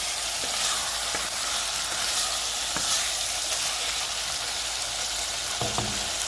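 Tomatoes sauté in a pan for prawn curry, giving a continuous, even sizzle and hiss with a few soft stirring knocks, close and steady throughout.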